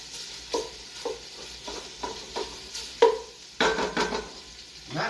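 Onions caramelizing in a pot of French lentil soup with sausage, a steady sizzle broken by regular stirring scrapes and light clinks of a utensil against the pot, close and moderately loud, with no talking.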